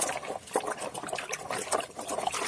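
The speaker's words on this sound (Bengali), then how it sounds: "প্রথমে হলুদগুলো ভালো করে জল দিয়ে ধুয়ে নিতে হবে যাতে হলুদের গায়ে কোনো মাটি না থাকে" Running water trickling and splashing over raw turmeric roots being rinsed clean of soil, a steady, close pouring sound with small irregular sloshes.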